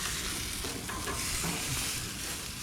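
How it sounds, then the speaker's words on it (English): Steak sizzles loudly and continuously on a hot grill, a dense crackling hiss with no voices. "You can hear it sizzling, dude."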